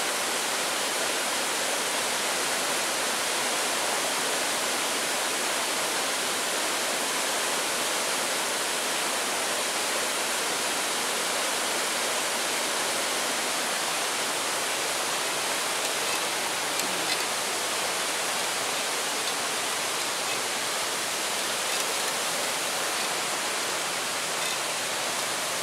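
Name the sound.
waterfall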